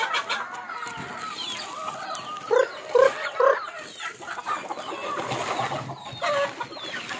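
Free-range chickens cluck on a Philippine farm at feeding time while they peck at feed on the ground, with short bursts of clucking over a busy, rustling yard and a rooster tied up nearby.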